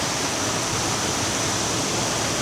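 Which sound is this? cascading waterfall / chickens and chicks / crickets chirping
cascading waterfall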